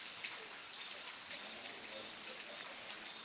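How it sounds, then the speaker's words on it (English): Steady rain patters on a surface, a constant close hiss with no pauses and no voices. "So here we have rain"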